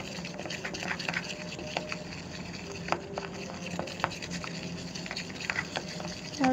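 A homemade stretchy slime mixture being stirred, with soft wet scraping and squelching strokes repeating irregularly at close range, a few sharper clicks in between, and no talk.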